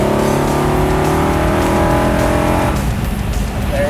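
A Mopar Hemi muscle car accelerates hard from inside the cabin, a loud, continuous engine roar climbing steadily in pitch through the revs before easing off, with no voices.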